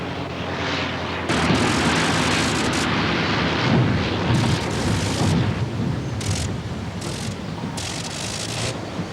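An Avro biplane on a pilot's first solo flight roars steadily with a loud, rough propeller engine drone that rises and surges and holds close throughout, with no talking.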